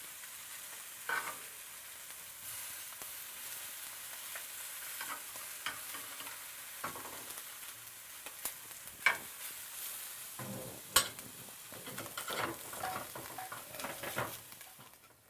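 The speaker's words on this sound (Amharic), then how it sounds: "እያንዳንዱ ደግሞ ግልብጥ አደርገዋለሁ ቡኒ እንዲሆን ማለት ነው።" Fish pieces frying in a pan for an Ethiopian fish stew, with a soft continuous sizzle and repeated sharp scrapes and knocks as the pieces are turned and stirred, close up and with no talking.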